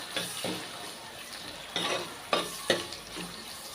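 Chopped onion, tomato and green chilies sizzle in a pan for a fish curry, a low background fry broken by several sharp spoon-stirring scrapes and clinks, spaced irregularly and close by.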